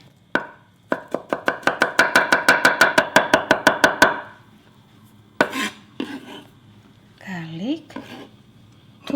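A knife chops quickly on a cutting board while food is prepared for a Korean gujeolpan platter. About twenty sharp, evenly spaced strokes run together, then the chopping stops and a few scattered clinks and scrapes of utensils and dishes follow.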